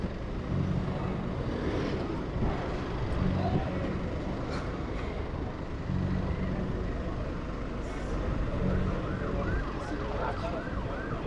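A police car siren wails over heavy, continuous traffic and engine noise as the car arrives as backup after a motorcycle chase, with a voice talking faintly under the din.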